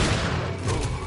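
A loud, rumbling rocket launcher blast in Resident Evil 4, with crackling bursts filling the short moment, dense and close, with no voices.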